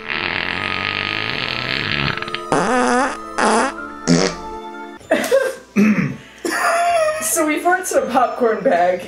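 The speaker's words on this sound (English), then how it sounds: "He farts in a popcorn bag." A fart released into a popcorn bag in a scene from the action movie Thunder in Paradise: several loud, blurting bursts mixed with film soundtrack noise and voices.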